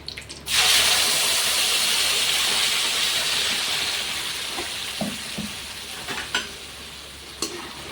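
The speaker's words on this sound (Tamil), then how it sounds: "இந்த பேஸ்ட்டை நம்ம இதில் ஊற்றி கொதிக்க வைக்கப்போம்" A loud, steady sizzle and bubbling start abruptly as a ground mint paste is poured into a pan and boiled for mint rice, then settle into a continuous hiss with a few clinks and pops.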